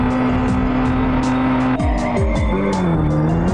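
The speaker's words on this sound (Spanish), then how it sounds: "He acelerado a toda velocidad prácticamente para convertir nuevamente nuestro auto en una" A car in the Flying Car Extreme Simulator video game revs hard with a loud, sustained engine whine that shifts pitch as it accelerates, joined by squealing tire skids and a clear gear change partway through, with no talking.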